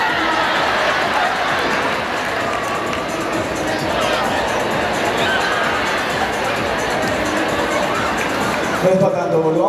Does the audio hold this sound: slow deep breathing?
no